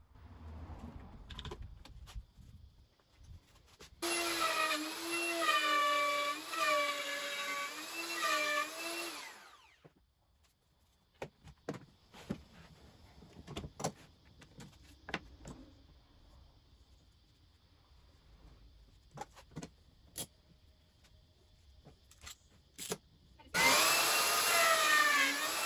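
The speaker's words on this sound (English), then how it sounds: "I made this very simple right angle template to route the corners and the ends of the window straight and square." A wood router cuts the corners and ends of a window opening along a right-angle template, whining loudly in two bursts a few seconds each, with scattered clicks and handling noises between them.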